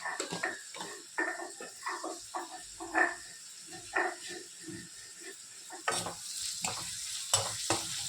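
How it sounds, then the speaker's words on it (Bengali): Chopped onion with salt and turmeric frying in a pan, a steady close sizzle broken by repeated scraping stirs and spoon knocks, with no talking. "এখন একটু ভেজে নেব।"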